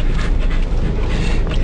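Excited dogs pant rapidly and steadily up close at the end of a newly cleared rural driveway, a dense continuous breathing sound with no talk.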